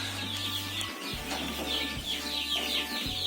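Chickens in a farm coop with a respiratory illness that causes rattling breathing, giving soft clucks and chirps against a low, pulsing hum of machinery.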